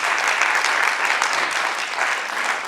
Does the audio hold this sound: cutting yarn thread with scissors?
no